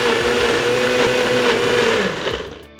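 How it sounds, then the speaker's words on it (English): A NutriBullet Pro 900 blender with a 900-watt base whirs loudly and close, its motor holding a steady pitch before winding down and fading near the end. "throw it in, screw on the lid, put it on your blender"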